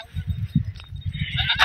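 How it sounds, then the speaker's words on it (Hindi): A flock of sheep and goats bleats close by at a historic palace courtyard, several overlapping calls in quick succession, with a brief voice murmuring among them. "अभी देखो माहिर भेड़ बकरियों के बीच में बैठ गया है।"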